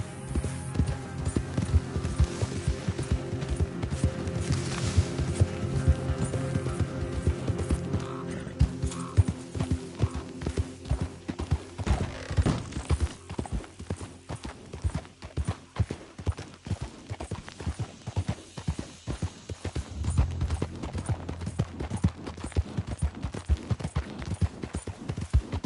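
Horse hooves clip-clop at a steady, even riding gait in a video game, a close, continuous rhythmic clatter over a faint low hum, with no voices.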